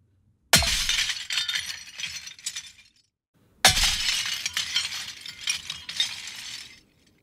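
A large glass pane or object shattering, heard twice, each a loud crashing burst followed by roughly two seconds of cascading shards and tinkling debris, close and alone against silence.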